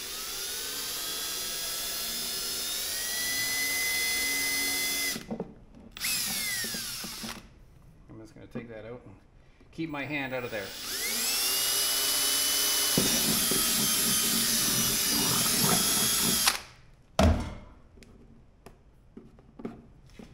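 A power drill bores through metal for bolt holes outdoors, a loud high whine running in several long bursts with short pauses between them, and someone talks briefly in one of the gaps.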